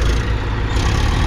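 Eicher 333 Super Plus Hydromatic tractor engine running steadily up close, a continuous low rumbling drone with no pauses and no voices.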